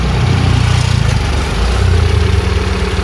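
A Kia Visto engine idles with an idle speed control fault, so the revs drift up and down. It gives a loud, steady, close-up drone with a slow rise and fall in pitch.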